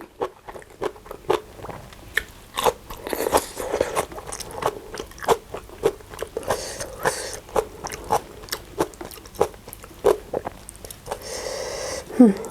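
Someone eats papaya salad with blanched enoki mushrooms close to the microphone, giving a long run of irregular wet crunching and chewing bites, with occasional murmurs between them.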